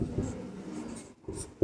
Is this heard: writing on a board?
yes